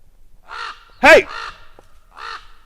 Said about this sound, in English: Dude, are you squawking at me?